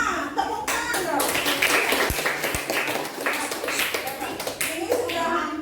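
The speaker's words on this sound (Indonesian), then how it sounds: "Tepuk tangan dong" Schoolchildren in a classroom clap for a group's answer, a ragged burst of hand claps close by with some children's voices mixed in, thinning out and picking up again.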